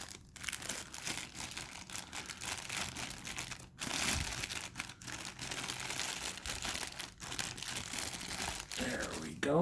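Plastic wrap crinkles and crackles as it is peeled and unwrapped from an anime figure of Kiana Kaslana, a soft, close, continuous rustling with a few sharper crinkles.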